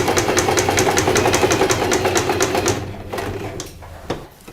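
A sewing machine stitches a doll's body, giving a steady, fast mechanical whir with even needle ticks for under three seconds. It then stops, followed by a few scattered clicks and handling noises.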